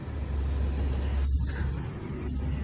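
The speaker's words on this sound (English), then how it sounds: "The truck is running because I'm charging the GoPro batteries." A parked truck's engine idles in a low, steady rumble, quiet and unbroken, with faint brief sounds above it and no talking.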